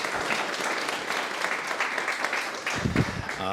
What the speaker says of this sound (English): please join me in a round of applause for the board and all of the staff that are here